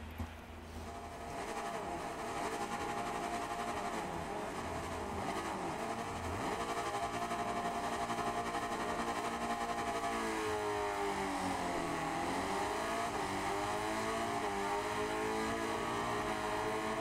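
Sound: 500cc racing motorcycle engine in video game Ride 5

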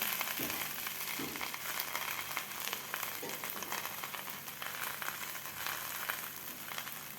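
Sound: spinach paratha sizzling in ghee on a hot tava

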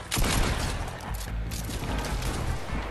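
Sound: gunfire in Fortnite video game

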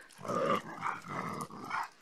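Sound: dogs following a person

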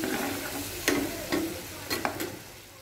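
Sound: sautéing coriander powder and tomatoes in a pan

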